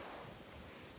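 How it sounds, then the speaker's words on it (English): Strong wind gusting outdoors around a hunting deer stand on a ridge above a bean field in Pike County, Illinois, a steady broadband roar with buffeting against the microphone and no voices. "Pretty windy and cool."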